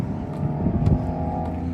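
A Honda CR-V driving past, a low steady engine and road rumble holding close and even for under two seconds with a slight swell in the middle.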